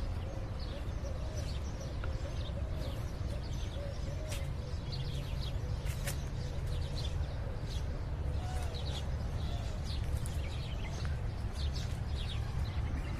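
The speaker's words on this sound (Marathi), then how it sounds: "चिमण्यांची चिवचिवाट" Sparrows chirp continuously in a garden, with many overlapping high tweets over a low outdoor rumble and faint background voices.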